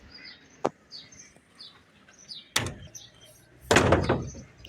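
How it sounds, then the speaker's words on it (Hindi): A house door in Karachi is closed, with a sharp click, then a louder thud and a rattling bang a second later, while birds chirp faintly outdoors in the background. "दरवाज़ा कर दिया है बंद।"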